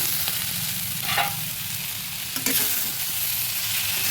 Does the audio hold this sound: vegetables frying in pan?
yes